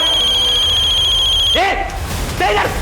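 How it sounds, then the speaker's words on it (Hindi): A mobile phone rings with a steady electronic trill, then gets cut off as someone shouts over it twice. "किसका फोन बजा बे? किसका फोन बजा?"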